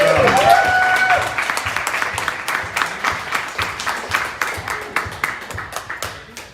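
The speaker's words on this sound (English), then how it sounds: "How about a round of applause for our little flute girl here," A ceilidh audience applauds a young flute player, a dense burst of hand clapping that starts full and gradually thins into scattered, fading claps, with a few faint voices underneath.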